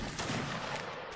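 Musket fire in the Mount & Blade: Napoleonic Wars video game during a line battle, a brief burst of fairly faint, dense crackling gunfire.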